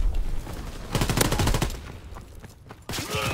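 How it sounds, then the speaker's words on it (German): Rapid automatic gunfire in the World War II shooter Call of Duty WW2, sharp bursts rattling in quick succession amid battle noise, a brief lull, then more shots close by. "Von innen oberhalb kamen die Schüsse durch"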